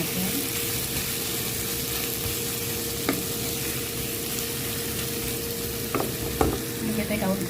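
Squid frying in a pan while being stirred, giving a continuous loud sizzle broken by occasional scraping knocks of the utensil against the pan.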